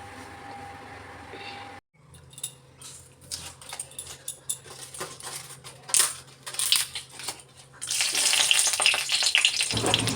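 Bay leaves and five-spice hit hot oil in a wok, starting after a brief pause with crackling, popping bursts that swell into a loud, steady sizzle.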